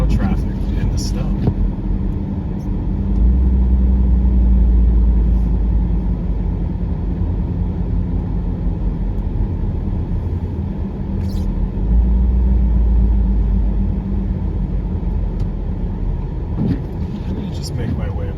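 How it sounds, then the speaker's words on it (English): Steady road traffic on a Toronto expressway during a rush-hour snowstorm, heard from inside a moving car: a continuous loud low rumble of engine and tyres on wet snowy pavement, swelling at times as heavier vehicles pass close. "enjoy the sights and sounds of good old Toronto traffic in the snow"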